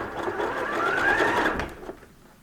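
A sewing machine runs a wide, close zigzag stitch along the backing fabric edges of multicoloured faux fur scraps, a steady continuous whir that swells slightly midway and stops near the end, close and alone.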